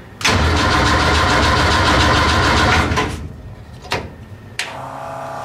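A Mini engine cold starting: a loud, steady cranking-and-firing roar for about three seconds, then it drops off, followed by two short sharp bursts and a lower steady idle hum.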